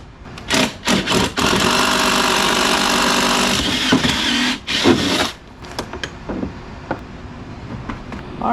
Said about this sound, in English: So now we're ready to drill some holes through the transom.